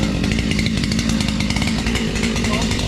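A chainsaw running loud and close at a steady high rev, buzzing continuously while people talk over it, during work on a hung limb in a tree.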